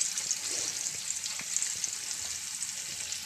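Dahi bhalle batter frying in hot oil, a steady broadband sizzle with faint crackles and pops running continuously throughout, close and even in level.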